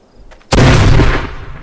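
Mine going off in the zombie shooter Arizona Sunshine, a single sudden, very loud blast after a quiet lead-in, its heavy rumble holding for a moment before tailing away.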